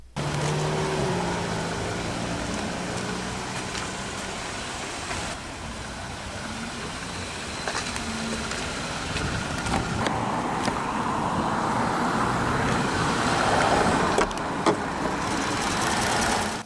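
A 2022 Jeep Gladiator Sport S idles with its Chrysler Pentastar 3.6-liter naturally aspirated V6, giving a steady, close engine hum with a few faint clicks and slight swells in level, with no voices.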